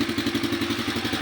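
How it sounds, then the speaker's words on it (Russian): A Kayo 120cc four-stroke motorcycle engine, freshly serviced, runs with a steady, even chugging putter at close range, a brief burst with no voices. "Пробуем заводить."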